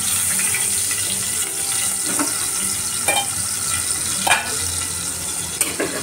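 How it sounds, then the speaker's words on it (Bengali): Eggplant frying in a pan gives a steady sizzle with soft stirring and scraping clicks, close and continuous, with no talking. "দুটো বেগুন ভাজা বসিয়েছি"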